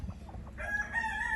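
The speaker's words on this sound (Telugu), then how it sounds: "ఇవన్నీ కూడా ఎక్స్క్లూజివ్ కాకి పెట్టలు." Kaki breed chickens of the Peru type on a breeding farm give a brief, faint call, more like a short crow than clucking, over a low background rumble.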